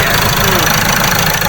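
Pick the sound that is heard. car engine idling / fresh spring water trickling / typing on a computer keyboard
car engine idling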